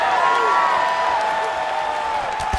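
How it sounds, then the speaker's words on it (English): A crowd at a women's MMA fight between Holly Holm and Zhang Weili keeps up a steady roar of cheering with faint applause, a broad continuous wash of noise that stays loud throughout with no clear breaks. "the crowd continues to react with every passing land"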